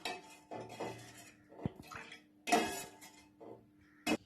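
A pot of tender coconut payasam being stirred after condensed milk is added, giving intermittent scrapes and clinks of a spoon against the metal pot, fairly faint with short pauses between strokes.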